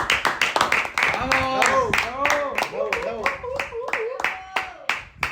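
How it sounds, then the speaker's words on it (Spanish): Sharp hand claps ring out in quick, uneven bursts while voices cheer and shout over them, a lively close-up round of clapping among a few people. "Yo le quiero dar un aplauso a George Orwell"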